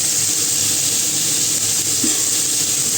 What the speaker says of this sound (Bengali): এবারে একটু ভেজে নেবো এগুলো লবণ দিয়ে দেবো